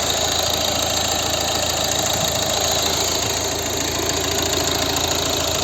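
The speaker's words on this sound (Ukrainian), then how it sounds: "І ось звук двигуна" A 2012 Volvo V50 1.6 diesel engine idling steadily up close, a constant dense rumble with even mechanical clatter and no change in pitch throughout.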